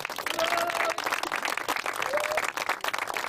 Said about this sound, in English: And I think that deserves a nice round of applause.